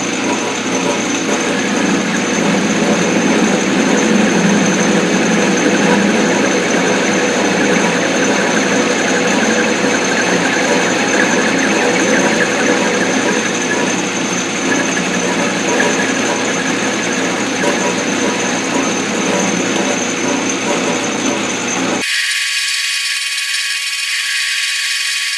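A lathe runs steadily while cutting a point on a small metal part, a loud continuous mechanical whir and hum that holds even for about twenty seconds before cutting off abruptly.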